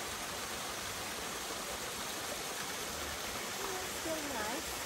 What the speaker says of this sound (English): Oh, there's a waterfall.